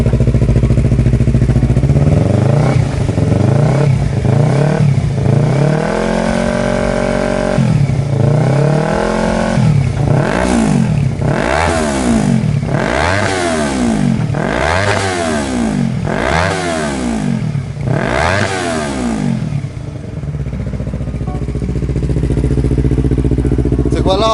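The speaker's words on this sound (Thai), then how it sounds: "เดี๋ยวให้ช่างไปเร่งเครื่องดีกว่า" A Yamaha YZF-R3 motorcycle engine revs up and down again and again, loud and close, each rev rising to a high whine before dropping back to a rough idle, with a rattling sound inside its exhaust.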